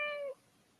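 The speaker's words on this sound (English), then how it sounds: "I think your cat was saying yes too." A cat lets out a single short, clear meow close by, cutting off sharply into quiet.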